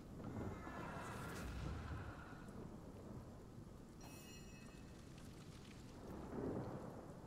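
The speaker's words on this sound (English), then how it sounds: "it'll still be raining for a little while" Rain and thunder from the video game Divinity: Original Sin: a steady rain hiss with low rolling thunder rumbles near the start and again toward the end, soft and unbroken by voices.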